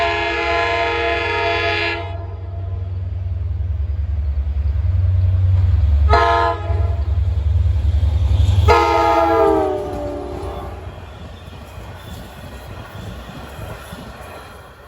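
A Long Island Rail Road train, number 8778 running Babylon to Patchogue, passes near the Windsor Avenue grade crossing, sounding several loud horn blasts over a heavy rolling rumble that fades after about ten seconds.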